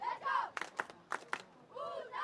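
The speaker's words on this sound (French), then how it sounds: "Pendant qu'on entend la foule maintenant toujours encourager les deux équipes qui s'affrontent." A crowd at a youth soccer match at the Quebec Games in Rimouski, heard as distant cheering and shouting in an outdoor stadium while commentators talk over it.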